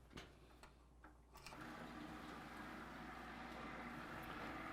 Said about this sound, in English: we just plug it in, and you'll hear the motor come on